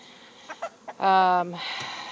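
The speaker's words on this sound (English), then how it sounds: "you can see our chickens free-ranging out here, hanging out" A few short clucks, then a louder drawn-out squawk from a free-ranging chicken close by near beehives, followed by a faint background hum.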